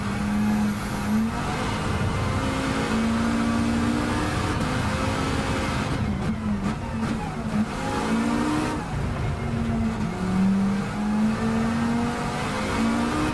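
A race car in Gran Turismo 7 laps the Nürburgring with a loud, sustained engine roar that rises and falls through repeated gear changes and throttle lifts, with no voices over it.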